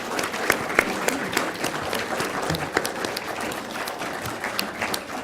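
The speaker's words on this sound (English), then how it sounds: "I think we have to give a big applause to our two panelists." Audience at a panel interview session applauding the two panelists, a fairly soft, even patter of many hands clapping that continues steadily for several seconds.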